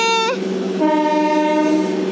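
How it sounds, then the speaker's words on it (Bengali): A local train bound for Howrah pulls out of a station, its horn sounding loud and close in one long steady blast that holds for about two seconds, with no talk. "এবার ট্রেনটা চলে যাবে।"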